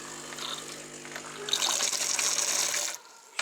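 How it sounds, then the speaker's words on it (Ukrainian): Water runs from the tap of a Saeco Vienna coffee machine in test mode with the pump on, a steady hiss that grows louder partway through and then drops off near the end. "Все, водичка у нас збігає."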